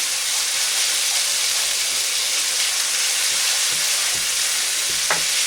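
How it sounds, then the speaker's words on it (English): Curry sauce for veggie kofte fries and reduces in a pan with a loud, steady, close sizzle and hiss. A few faint knocks of stirring come through near the end, and no one talks. "it starts to reduce again till it starts to fry, and you start to see the oil separate out again"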